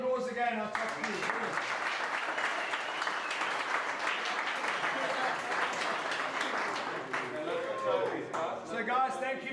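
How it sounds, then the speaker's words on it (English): An audience at a raceway event applauds steadily for several seconds, dense clapping close by, while someone talks over it at the start and end. "Give a round of applause again."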